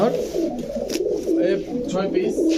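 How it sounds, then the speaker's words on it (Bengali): Pigeons for sale at a market, including small-beaked breeds, coo with soft, repeated throaty calls up close, while people talk nearby. "একদম ছোট ঠোঁটের কবুতর"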